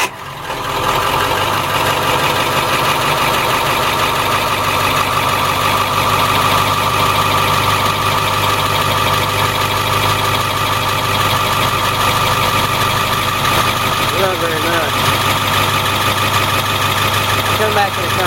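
A rear-engine International RE30 school bus diesel idles steadily and loudly throughout, a continuous mid-pitched rumble with faint knocking texture and no change in pace.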